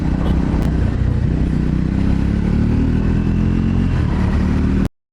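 A Scrambler motorcycle engine revs loud and close, giving a steady, rough, throaty roar that holds for about five seconds before cutting off abruptly.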